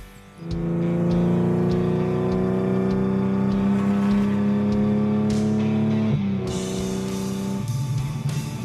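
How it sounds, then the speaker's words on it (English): A restored classic car drives through town, its engine holding a steady close hum with a shift in pitch partway through, alone without speech. "Should we go for a drive?"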